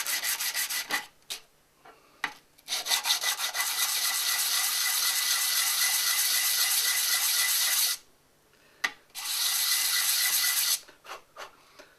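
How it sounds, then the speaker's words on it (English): Wet and dry abrasive paper rubbed over metal plumbing surfaces to clean them, a loud, close rasping scrub in long sustained strokes broken by brief pauses and clicks. "we're going to use a bit of wet and dry just to clean up the surfaces"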